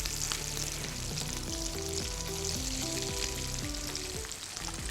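Potato kababs fry in hot oil, a continuous close sizzle with fine crackling, steady and moderately loud under a faint low tonal hum, no speech.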